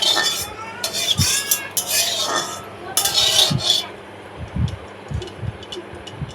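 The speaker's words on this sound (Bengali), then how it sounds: "রাঁধুনি ফোড়নটা দিয়ে একটু তেলটা নাড়িয়ে নিয়ে" A utensil scrapes and clinks against a pan while radhuni seeds are stirred into hot mustard oil, a handful of separate metallic knocks with soft sizzling and stirring noise behind them.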